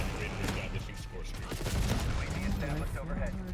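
Enemy gunfire in Black Ops 6 multiplayer rattles in rapid bursts against dense game noise. A voice talks over the shooting throughout.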